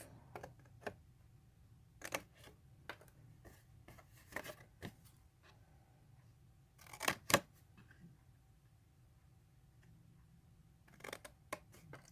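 Scissors cutting paper pieces in half for a DIY easel dresser craft, a series of sharp isolated snips and clicks at irregular intervals, close but quiet against a faint background hum, no talk.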